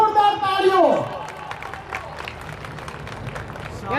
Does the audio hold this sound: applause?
yes